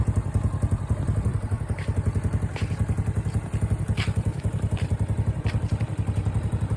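A modified Yuki Gusto 125cc scooter engine idles close up, a continuous low throbbing putter with faint mechanical ticking on top.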